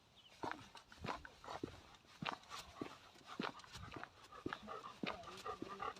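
A dog pants in quick rhythmic breaths while its paws patter along, close by, with a few sharp clicks of footsteps.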